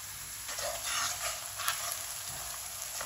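Onions frying in a pan for an okra curry give a steady, close sizzle and hiss that runs unbroken throughout, with no talking.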